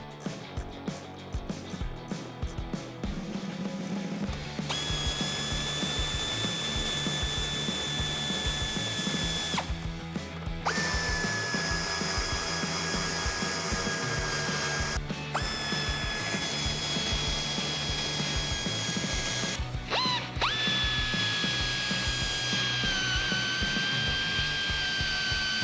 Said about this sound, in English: I'm going to use a 7mm socket to remove the bolts out of this.